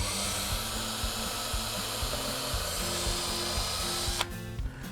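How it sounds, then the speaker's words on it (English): A power drill drives face screws into the end of a Fibo wall panel, a close, loud, steady whirring with stepped pitch changes as the screw seats, ending in a sharp click and brief clatter. "we want to put face screws in the ends of the Fibo panel"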